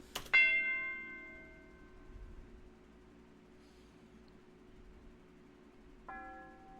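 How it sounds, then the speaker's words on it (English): A single struck tubular bell, without effects, rings out clearly with a bright metallic attack and long decaying tone, followed by a second softer strike near the end. "I grabbed this tubular bell and really just played a note"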